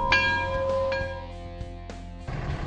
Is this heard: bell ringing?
yes